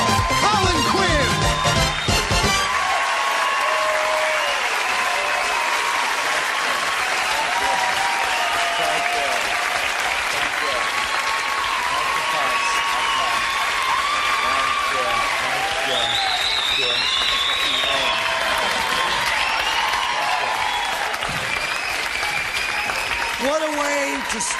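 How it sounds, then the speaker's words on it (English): A stand-up comedy audience gives Colin Quinn sustained, loud applause as he takes the stage, a steady wash of clapping with scattered cheers. It runs unbroken for about twenty-five seconds after a brief opening announcement. "Don't applaud now, it's too late, ladies."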